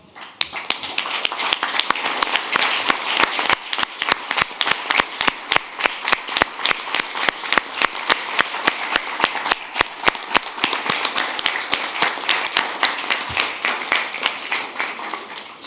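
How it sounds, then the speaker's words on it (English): A conference audience gives the event staff a big round of applause: dense, steady clapping from many hands that holds at an even level for about fifteen seconds. "Can I have all the APNIC staff stand up so that we can give you a big applause?"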